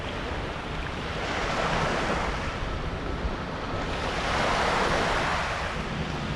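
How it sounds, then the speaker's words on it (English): Strong wind roars across a foggy beach, a loud continuous rush of buffeting wind and surf that swells and eases in broad waves with no voices. "Come out here and it's, you know, a massacre of wind."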